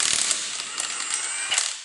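A ratchet clicks in a rapid, steady run as a tape-wrapped socket turns wheel nuts on a Ford Falcon XF, close up and alone.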